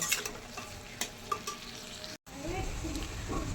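Food sizzles and fries in a pan with a steady crackling hiss, punctuated by a few sharp clicks of a utensil.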